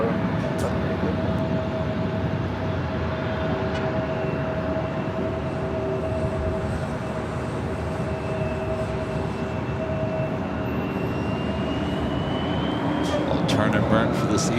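An Embraer E175 jet takes off at Los Angeles airport with a loud, steady broadband engine roar and a faint whining tone, sustained and continuous from a distance.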